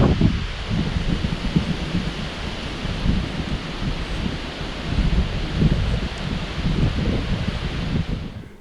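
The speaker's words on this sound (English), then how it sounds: "All right, let's get out of the rain." Steady heavy rain with gusting wind sweeps across a homestead during a hurricane, a dense continuous roar that swells and eases without break, with no voices.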